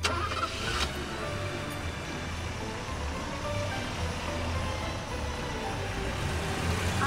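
A car engine idles and runs steadily close by, a low continuous rumble with a brief sharper burst near the start, as a family sets off on the road at Christmas time.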